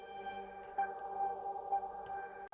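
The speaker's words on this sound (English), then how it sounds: "And this ultra tap is just such a spacey delay" Sustained spacey, smeared tones and noise washing through an Eventide UltraTap delay in a house track break, steady and fairly quiet with a few swells, no voices.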